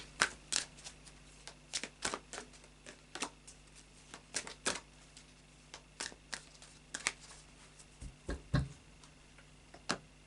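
Tarot cards shuffled by hand for a reading, quiet crisp snaps and riffles arriving in irregular bursts over a near-silent room.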